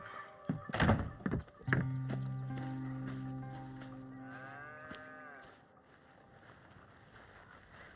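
Cows moo on a farm in the Red Dead Redemption 2 video game, with a long low bellow after a couple of thumps, then quieter ambient farm sounds and faint hooves.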